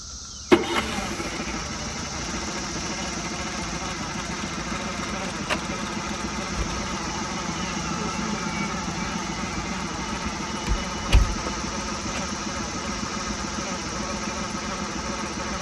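A Mercury 9.9hp outboard motor with a newly installed impeller, run on flushing muffs, catches after a sharp start and settles into a steady buzzing idle, with a couple of small clunks along the way.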